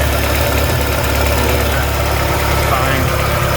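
A 1989 Shelby Daytona engine running on 14-year-old gas idles loudly and steadily up close, with a rough, knocking vibration throughout.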